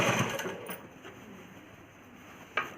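A sewing machine runs a double stitch on a child's umbrella frock, with a close mechanical whir that is strongest at the start and then fades, plus a sharp click near the end.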